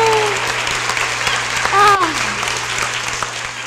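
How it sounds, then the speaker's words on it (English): Studio audience applause for a game contestant named Cassie at a women's equity anniversary celebration, steady clapping throughout under a constant low hum, with brief voices rising over it near the middle. "give Cassie a round of applause"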